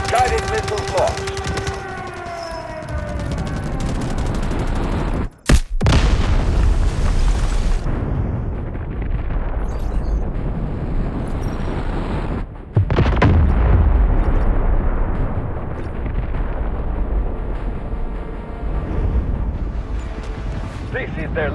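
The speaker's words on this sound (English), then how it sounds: "Smoke barrage ready. Guided missiles launched." Guided missile barrage in the Delta Force Mobile warfare game, with heavy rumbling explosions and booming blasts over continuous battle noise, a sharp break around the middle, and voices talking early on.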